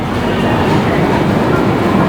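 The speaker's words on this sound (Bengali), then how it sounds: "এখান থেকে ট্রেন ছেড়ে দিল" The 19414 KOAA–ADI Express leaving Katrasgarh station, heard from on board as a loud, steady, close rumble with no distinct clacks.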